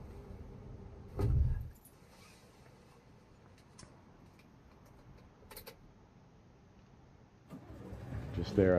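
In Euro Truck Simulator 2, after refuelling, a truck door thuds shut early on, followed by quiet cabin ambience and a few faint clicks, then the engine cranks and starts near the end.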